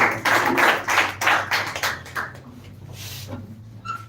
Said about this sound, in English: So once again, clap for her.